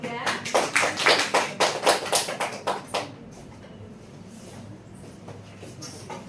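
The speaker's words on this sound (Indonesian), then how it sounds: "Tepuk tangan untuk kelompok 3." A classroom applauds a student group with a burst of sharp, rhythmic clapping for about three seconds, then the room falls to a quiet murmur.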